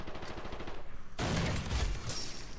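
Rapid gunfire from a Far Cry 3 multiplayer match plays in bursts, a fairly faint stuttering volley that swells into a denser, louder fusillade midway through.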